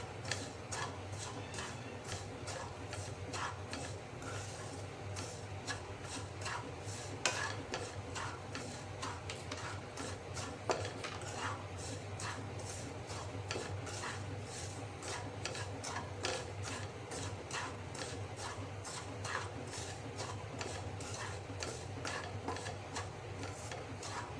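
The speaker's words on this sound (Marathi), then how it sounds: "पाच मिनिट असं लो फ्लेमवरती असं छान हलवून घ्यायचं" Karanji filling being stirred in a pan on a low flame, a soft, steady run of light scraping ticks from the spoon against the pan, faint and continuous.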